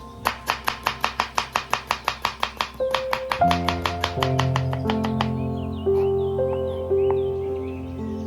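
An onion being chopped on a board for Hyderabadi chicken dum biryani, a quick even run of about a dozen close knife strikes, then softer, denser cuts, with faint melodic background music.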